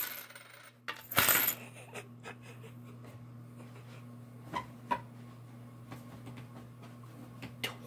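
Coins clinking in a container, with a loud burst of rattling early on followed by scattered small metallic clinks at irregular intervals, faint and close with soft breathing between.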